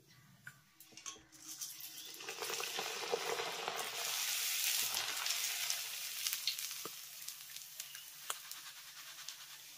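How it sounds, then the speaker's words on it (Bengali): Raw rice sizzles in hot oil, a close, crackling hiss that builds over the first seconds and stays loud and steady, with occasional stirring clicks. "একেবারে চোখের পলকে দেখুন চালগুলো কত সুন্দর ভাজা হয়ে যাচ্ছে"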